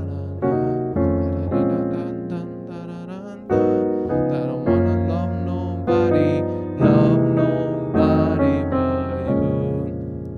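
Rich gospel jazz piano chords in a slow progression, each voicing struck and left to ring before the next change, with no voices.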